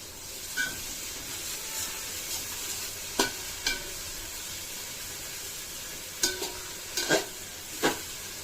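Marinated chicken with biryani spice mix sizzles steadily in a pan for Hyderabadi chicken polao, with a constant frying hiss broken by a few sharp scrapes and clinks of a spoon stirring.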